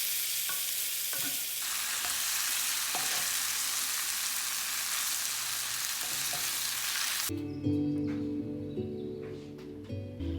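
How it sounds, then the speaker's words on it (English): Already cooked fettuccine noodles stirred around in a hot pan make a steady, dense sizzling hiss for most of the stretch, then the sound drops to a quieter, more muffled stirring near the end. "So here I am just stirring in my already cooked fettuccine noodles"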